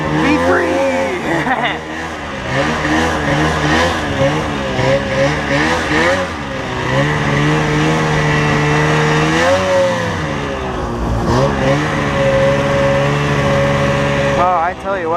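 Ski-Doo Formula Z 583 snowmobile engine revving and rising in pitch as the sled rides through snow, loud and close throughout, with someone talking over the engine noise.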